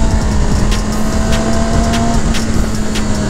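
Mercedes SL 55 AMG driving, a steady loud engine roar with road and wind noise that holds without pause, heard close from on board.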